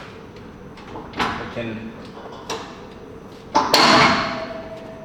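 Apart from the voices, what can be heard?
sliding bag rail moving a heavy punching bag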